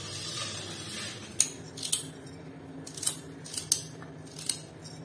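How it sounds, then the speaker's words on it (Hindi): A knife slicing peeled carrots for gajar ka halwa, a few sharp crisp chops at uneven intervals against a quiet background hum, close by. "अब मैं गाजर काटूंगी फिर हलवा बनाना शुरू"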